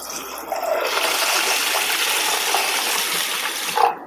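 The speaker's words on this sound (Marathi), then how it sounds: "आता पाणी घालून घेते." Water pours steadily onto rice set to soak for a day, a near, continuous gushing stream that carries on for several seconds before it tapers off at the end.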